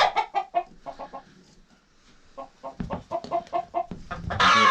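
An angry hen clucks in rapid bursts of sharp, close calls, pausing briefly before a second agitated run of clucks.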